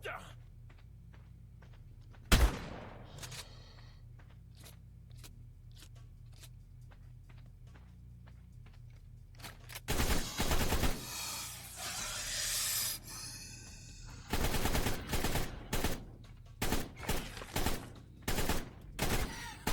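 Grenade traps going off in ARK Ragnarok's labyrinth, one sharp blast early, then after a quiet stretch a loud burst of overlapping explosions and rapid cracking bangs, some scattered and separate.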